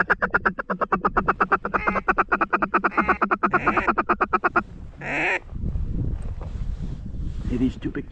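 Ducks quack in a rapid, rhythmic string of nasal calls during a South Dakota duck hunt, close and loud, followed by a brief call and then wind buffeting the microphone as voices talk.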